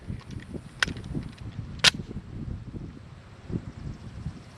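A Colt All-American 2000 pistol fires two sharp, cracking shots about a second apart at an outdoor range, with light wind noise and low rumble around them.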